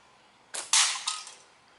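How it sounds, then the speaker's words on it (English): A slingshot fires at a can, giving a sharp band snap followed by a quick metallic hit and a short rattling tail, brief and fairly quiet against a calm background. "There's not much more fun that you can have than shooting a can."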